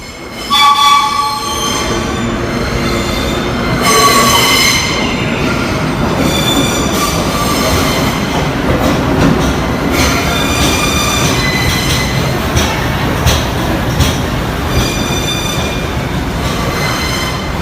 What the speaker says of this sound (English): the thunderous roar emitted by the US subway when it arrives at the station